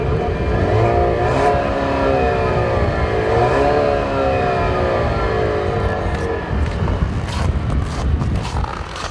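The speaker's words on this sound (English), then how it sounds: "this car doesn't have the best exhaust note. It sounds a little bit like a vacuum cleaner" Buick Regal with a turbocharged four-cylinder, 2014, droning steadily in snow with a flat, vacuum-cleaner-like exhaust note, loud and continuous, its pitch rising and falling through the run.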